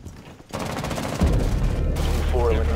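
Heavy automatic gunfire in Rainbow Six Siege, starting after a brief quiet moment and building into a loud sustained burst of close shots, with a voice briefly heard under it.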